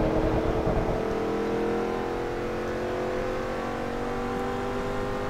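Race car engine in Forza Motorsport 3, at a launch among a pack with a Porsche nearby: a steady, loud, droning engine with multiple whining tones holding high revs throughout.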